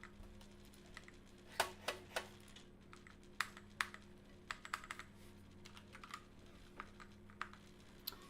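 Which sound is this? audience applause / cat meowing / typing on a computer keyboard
typing on a computer keyboard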